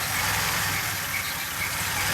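A DeLorean engine idles unevenly on a cold start with the throttle easing off, its steady low rumble faltering as if about to stall. The sound is continuous, close and fairly loud, with no voices.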